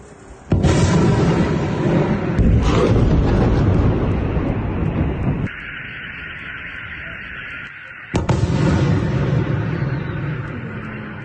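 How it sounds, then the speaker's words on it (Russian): A loud, heavy blast and rumbling roar of a drone strike explosion in Russia, followed by a quieter hissing stretch and then another surge of booming, crackling noise. "Летит дрон. Сейчас будет взрыв."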